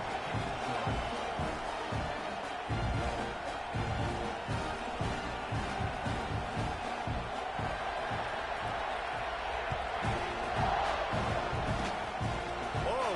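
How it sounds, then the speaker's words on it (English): A big college football stadium crowd roars and murmurs steadily before a kickoff, a dense wall of distant cheering with a commentator talking over it. "They're set to kick it off, and this crowd now ready to get behind them."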